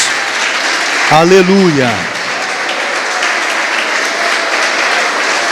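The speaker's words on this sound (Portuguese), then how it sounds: "Vamos aplaudir o nosso Jesus, meus irmãos." A church congregation applauds loudly and steadily, a broad wash of clapping with a single voice briefly calling out over it.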